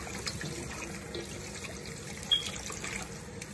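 Tap water trickles steadily over fish being rinsed in a kitchen sink for a Haitian fried fish dish, a faint, even splashing stream close by.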